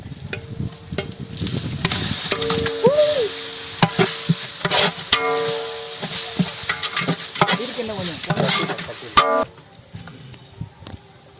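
Steady sizzling in a hot pan as ginger-garlic paste fries for quail biryani, with intermittent stirring and scraping, several sharp clinks of a utensil against the pan along the way.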